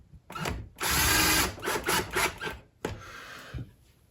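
A cordless drill on its lightest clutch setting drives bolts into a guitar neck fitted with a full-pocket shim. Short close whirring bursts with pauses between them, then a ratcheting clutch slip near the end.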